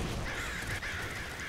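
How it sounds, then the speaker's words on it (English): A flock of crows in the video game Nuclear Throne caws in a dense, continuous chorus, loud and close throughout the short stretch. "That's a lot of crows"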